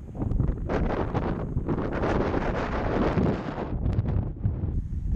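Strong wind buffeting a microphone while cycling on a 2017 Specialized Roubaix road bike in Cape Town, a loud, continuous roaring rumble with gusty surges and no pauses.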